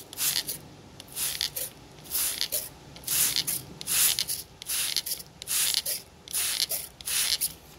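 Water spritzed from a spray bottle onto a bonsai trunk during hollow or rot repair, close hissing bursts repeated about ten times in an uneven rhythm, with quiet gaps between.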